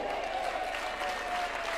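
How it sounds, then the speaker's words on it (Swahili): Applause from an audience at a political party national governing council meeting in Kenya, a steady wash of clapping that continues for a couple of seconds, moderately loud and evenly sustained. "Pigeni makofi."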